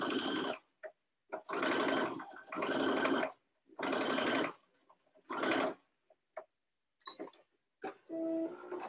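A sewing machine runs long basting stitches at a half-inch seam around the curved armhole of a boy's dress shirt, in several steady whirring bursts separated by short pauses, close and fairly quiet.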